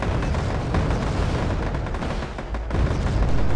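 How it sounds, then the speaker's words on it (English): Heavy artillery fire in Wargame: AirLand Battle, a continuous loud rumble of overlapping booms and impacts with a brief dip before growing heavier near the end. "Artillery that spot again."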